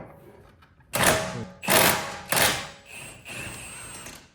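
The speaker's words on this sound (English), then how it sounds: "I just have to get this bolt out with impact because it is slightly crusty again" A stubby impact wrench on a 17 mm socket hammers at a crusty brake bolt in three close, loud rattling bursts, followed by a fainter buzzing trail.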